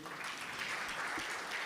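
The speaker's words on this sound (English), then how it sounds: "We can give them another round of applause." Audience applause at a partnership and learning celebration event, a dense, steady wash of clapping filling the short moment at moderate loudness.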